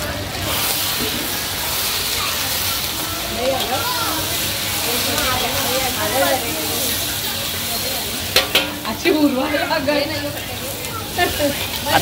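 A kadhai of Schezwan soya chili fried rice sizzles and is stirred steadily, with scraping spoon strokes and louder clatters near the end, while people talk over the cooking.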